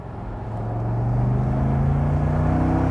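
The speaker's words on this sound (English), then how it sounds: "Oh, listen to that. Oh, what a good car." An Alpina BMW Z8 engine revs up and holds a rising hum, close and fairly loud, with no talking.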